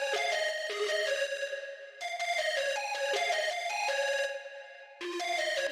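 A plucky hyperpop synth lead run through panning, shaping and reverb plays a fast, ringing bell-like melody. The notes wash into each other with a sense of movement, loud and alone, breaking briefly between phrases.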